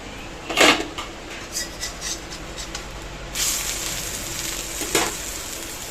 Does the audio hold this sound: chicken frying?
yes